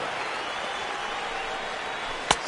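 Stadium crowd in MLB 15 The Show, a baseball game in a spring training setting, gives a steady, even roar throughout, with one sharp click near the end.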